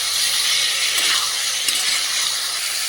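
Masala frying in a pan for a rohu fish curry with brinjal and potato, a steady close sizzling hiss without speech.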